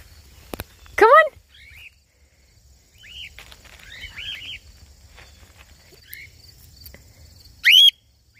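A baby cockatiel in free flight gives sharp, loud chirping calls, one near the start and another at the end, with fainter bird chirps and quiet rustling in between.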